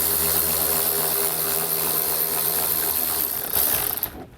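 A power ratchet spins out an 8mm screw from the wheel well of a 2017 Subaru Crosstrek with a loud continuous whirring buzz that cuts off abruptly at the end.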